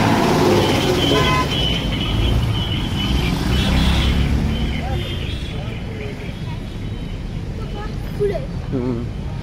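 Busy roadside traffic on the Baramati–Indapur road, with cars and buses passing and several short car horn toots in the first few seconds, the motor noise continuing steadily throughout.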